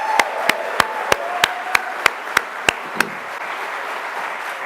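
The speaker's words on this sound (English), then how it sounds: "One round of applause for Robbie Loff and all the people here." A small outdoor audience at a campfire prairie talk claps in slow unison, about ten crisp, evenly spaced claps that stop abruptly and leave faint ambient background.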